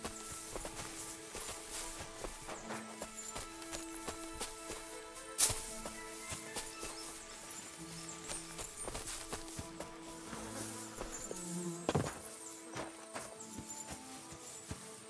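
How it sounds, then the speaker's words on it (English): Hooves of a black horse clip-clopping softly on the ground in the woods in Kingdom Come: Deliverance II, faint and moderately near, with scattered footsteps and quiet forest ambience. "A horse? What's it doing here in the woods?"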